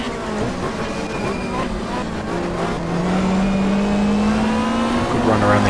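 A super touring race car, with an Opel Vectra among the field at Mallala in 1995, powers out of a hairpin, engine note climbing steadily and loudly as it accelerates away, with other cars audible close behind.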